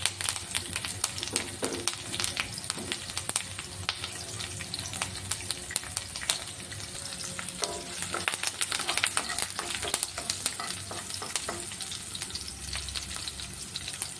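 Curry leaves and green chillies, with chopped garlic, sizzle in hot oil in a pan, a steady, dense frying hiss with occasional stirring scrapes, close and continuous throughout.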